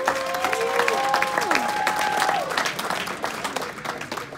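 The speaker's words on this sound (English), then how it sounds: "our freshmen were district champions. Give them a round of applause." Applause for freshman district champions at a school football awards night, crowd clapping throughout while a few whistles and voices rise over it.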